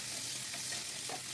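Tiny diced potato cubes fry in a pan of oil with nigella seeds and dried red chilli, giving a soft, steady sizzle that stays even and fairly quiet, with no talking.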